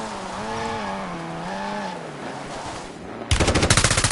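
Warzone gunfire bursts in suddenly as a loud rapid automatic volley after a passing vehicle-like engine drone, the shots close and evenly spaced in quick succession.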